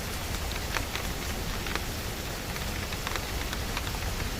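Heavy rain mixed with hail pelts down in a dense, continuous hiss of drops striking surfaces, with scattered sharper taps and no distinct thunder clap.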